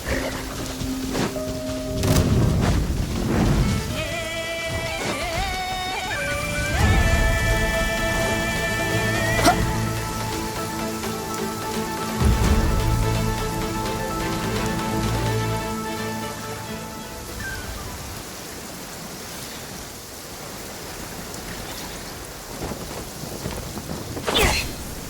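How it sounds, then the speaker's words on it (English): Rain falls steadily in the Genshin Impact video game, a continuous hiss with low thunder rumbles, layered under tonal game music for most of the stretch. "It always rains when I go on an adventure."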